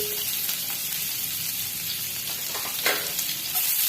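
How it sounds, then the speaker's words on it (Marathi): Cumin seeds and garlic pieces frying in three tablespoons of hot oil, a loud continuous sizzle close by with a brief scrape of stirring partway through. "जिरं टाकल्यानंतर लसूण तुकडे टाकून घ्यायचे आहे"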